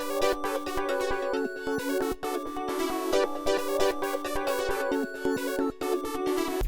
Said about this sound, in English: I grabbed this tri-stack preset from Xenology